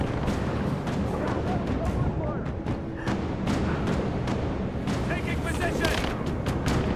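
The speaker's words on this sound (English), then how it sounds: "Oh, he almost shot my head off." Enemy gunfire in a Rise of the Tomb Raider combat scene sounds as a dense barrage of sharp gunshots and booms over steady battle noise, with someone talking throughout.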